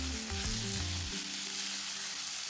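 Onion, tomato, ginger and garlic frying together in a pan for paneer masala, a close, continuous sizzle with soft low stirring thumps early on.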